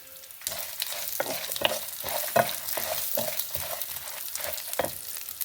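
Urad dal, garlic cloves and mustard seeds frying in a little oil in a pan, a steady close sizzle broken by repeated sharp scraping stirs and small pops.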